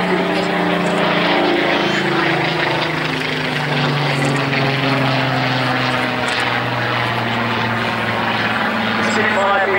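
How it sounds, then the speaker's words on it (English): Spitfire fighter displayed by the Battle of Britain Memorial Flight at the Sunderland airshow, a loud continuous piston-engine drone with shifting pitch as it passes, under an announcer's commentary over loudspeakers. "The Spitfire being flown by squadron leader Andy Milliken"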